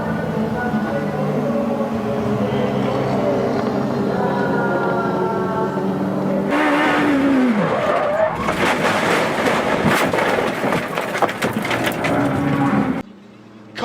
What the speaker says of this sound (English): That was a huge crash.